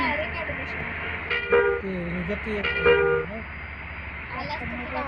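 A vehicle horn on a road gives two short toots about a second and a half apart, loud and near, over a steady low traffic rumble.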